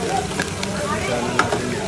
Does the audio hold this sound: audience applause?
no